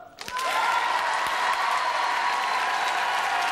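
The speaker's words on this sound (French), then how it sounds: "pour Gilbert. Applaudissements." Studio audience on a French television game show starts clapping after a brief quiet moment, swelling quickly into sustained, even applause that carries on loudly to the end.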